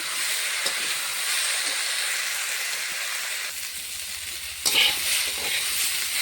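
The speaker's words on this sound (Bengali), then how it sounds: "সবজিটা কষানো হচ্ছে।" Potato, radish and cauliflower sauté in a pan with a soft, steady hiss of frying, a brief louder scrape near the end, no voices.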